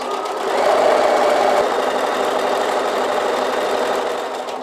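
A sewing machine runs continuously, stitching lining fabric for a tablet case with a 1 cm seam, a steady close-up mechanical whir that holds evenly throughout.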